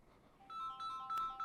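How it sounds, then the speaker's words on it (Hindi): A phone rings with an incoming call in a quiet room, its melodic electronic ringtone rising in bright repeated tones, soft and fairly distant, with no speech over it. "दोस्त का फोन आ रहा है।"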